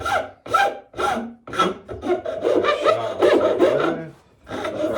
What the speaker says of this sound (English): The rasp will do it also. It's going against the grain. Hear that sound?